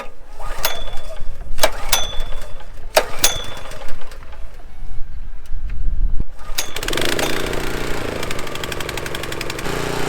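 A gas-powered power rake starts up and runs steadily while dethatching a Kentucky bluegrass lawn, its engine a loud continuous drone after several sharp clicks and pulls at the start.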